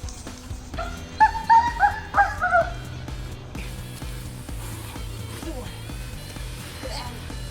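Dogs bark and yip in a short burst of several sharp, pitched calls near the start, then quieter whimpers, outdoors during a rainy workout with music and someone talking throughout.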